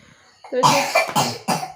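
A person gives three hoarse coughs close to the microphone, one after another in quick succession over less than two seconds. A faint breath comes before the first cough.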